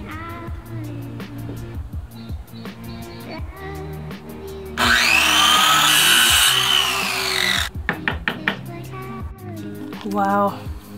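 A power saw cuts through a piece of scrap wood in a single loud, steady burst of about three seconds, framed by quieter clatter and handling noises before and after.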